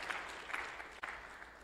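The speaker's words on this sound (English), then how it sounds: "Let's give him a round of applause." Quiet applause from an audience at an afternoon health retreat session, a short burst of scattered clapping that holds steady for under two seconds with a brief dip near the end.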